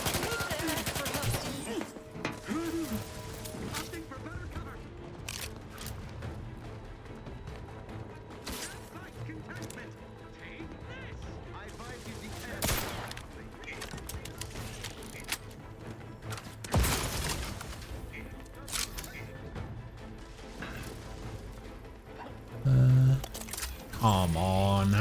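Rapid gunfire and grenade blasts from a combat fight in the video game The Outer Worlds 2, dense and continuous throughout, with sharp louder bangs near the end.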